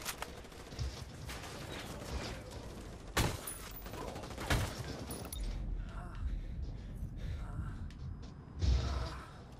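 Gunfire in the shooter game Ghost Recon Wildlands, with several sharp, loud shots scattered through a noisy battle soundscape and lighter background clatter between them.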